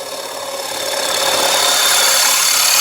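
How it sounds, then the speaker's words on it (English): A bowl gouge bores a hole into a dry wood bowl spinning on a lathe, giving a steady broadband scraping hiss that builds in loudness and holds close and continuous, with no talking. "I just kind of bore me a little hole here, like I was doing with my bowl gouge"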